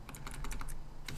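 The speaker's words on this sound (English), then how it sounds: "I always press the wrong keys" Keys on a computer keyboard are pressed in a rapid, uneven run of close, crisp clicks during the game Firewatch, with a brief pause before a final pair of taps.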